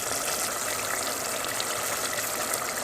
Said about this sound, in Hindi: तो हम थोड़ा सा पानी डालते हैं।